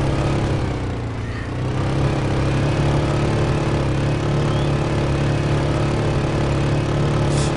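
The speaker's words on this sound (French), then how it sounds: "Le désavantage avec cette moto, c'est qu'on fait énormément de boucan" A motorbike engine runs steadily and loudly in the survival video game DayZ, a constant droning hum at close range with no speech.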